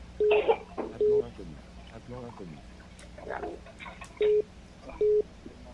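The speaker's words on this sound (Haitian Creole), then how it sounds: "Téléphone." Telephone keypad tones beep four times in short, evenly loud bursts, spaced apart, while a voice talks in between.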